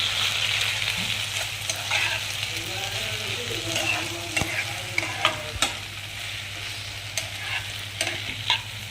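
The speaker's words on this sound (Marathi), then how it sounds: "2 ते 3 मिनिटं परतून घ्यायची" Soybean chilli sautés in a pan with a constant close sizzle, broken by spatula scrapes and knocks that grow more frequent toward the end, and no one speaks.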